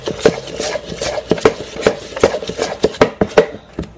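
Cake batter being mixed by hand in a pan, with a spoon or spatula knocking and scraping against the sides in a quick, fairly regular rhythm of close, distinct taps, no talking.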